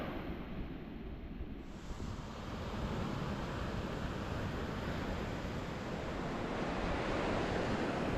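Surf rolls in on Om Beach in Gokarna, India, a soft continuous wash of waves with faint wind rumble, steady and fairly quiet, no voices.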